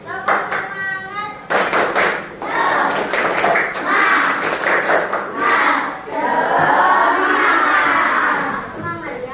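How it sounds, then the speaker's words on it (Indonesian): A classroom of children, fasting during Ramadan, joins a teacher in a rhythmic clapping chant, with bursts of patterned hand claps and voices alternating with pauses and shouted words. "Tepuk semangat dulu ya."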